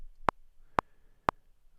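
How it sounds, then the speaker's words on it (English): GarageBand metronome count-off: four sharp, evenly spaced electronic clicks about half a second apart, crisp and close against near silence. "GarageBand has your metronome and your count off selected as standard"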